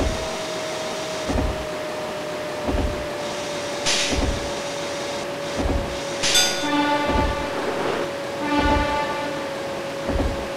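A 205 series Yamanote Line electric train pulls into a station in Densha de GO, with a steady motor whine, rhythmic wheel thumps over rail joints at regular intervals, and brake squeals and hisses as it slows, heard up close.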